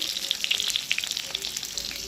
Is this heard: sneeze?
no